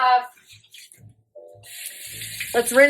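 Sweet potatoes are rinsed under a running kitchen tap before being boiled for fries, a steady hiss of water rising loud near the end after quieter handling sounds, with a voice briefly audible.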